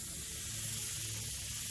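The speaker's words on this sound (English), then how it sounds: "You can hear that air, it's just barely coming out." Spray It paint gun releasing a light, low-pressure mist, a steady close airy hiss that holds evenly throughout.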